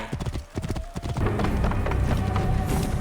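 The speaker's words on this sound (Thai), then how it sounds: "งั้นเดี๋ยวผมขออนุญาตควบม้าไปตรงจุดเควสนะครับ" Horse hooves galloping in Assassin's Creed Origins: a loud, rapid, rhythmic clip-clop that builds into a continuous pounding run, with a brief neigh-like tone mixed into the game ambience.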